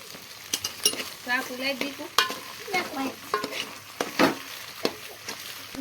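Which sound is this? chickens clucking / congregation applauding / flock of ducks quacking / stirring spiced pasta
stirring spiced pasta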